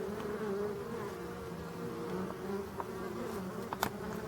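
Honeybees buzzing steadily around a forest hive late in autumn, a dense continuous hum with a few individual bees passing close near the end, no voices.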